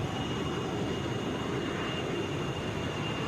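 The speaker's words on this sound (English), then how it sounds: "Airbus A320" Airbus A320 airliner at Atlanta International Airport, a steady, fairly loud broadband jet roar with no break, heard up close and alone.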